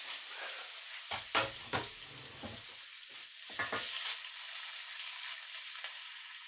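Bacon strips sizzle steadily in a hot wok, with louder bursts of crackling and scraping as they are stirred and separated, up close and without talk.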